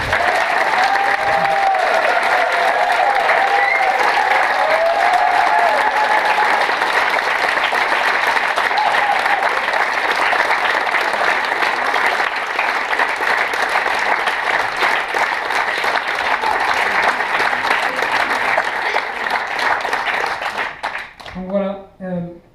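A concert audience gives a long, loud ovation to a pianist on stage, continuous dense clapping lasting about twenty seconds with a voice heard early on, tapering off as speech returns at the end.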